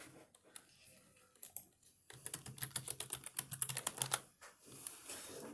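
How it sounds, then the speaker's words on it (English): A password is typed on a computer keyboard as a quick run of soft, close key clicks, with a few scattered taps before it and a faint hum behind. "Now press Ctrl Alt Delete and then type in that super secure password."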